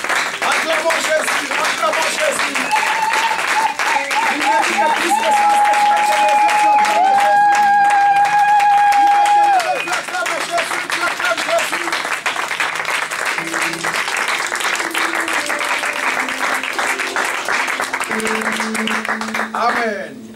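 A church congregation applauds in rhythm throughout a worship service, dense sustained clapping with a crowd singing and shouting over it and a held tone in the middle, loud and close for the whole stretch.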